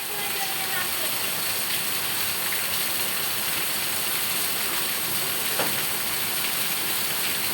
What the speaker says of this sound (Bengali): মুষলধারে বৃষ্টি হইতেছে।